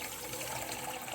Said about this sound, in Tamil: தேவையான தண்ணி ஊற்றிக்கோங்க.